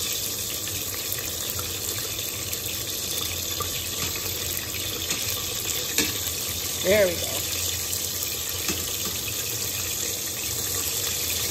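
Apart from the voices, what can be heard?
food frying loudly in hot oil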